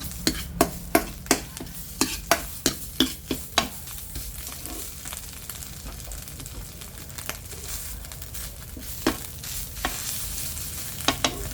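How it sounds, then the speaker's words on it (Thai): Curry paste stir-fried in a pan with fried catfish, a run of sharp, regular spatula scrapes and taps over a continuous sizzle, close up, then sparser strokes later. "ดี๋ยวเราก็ผัดให้ที่แกงหอมก่อนนะคะ"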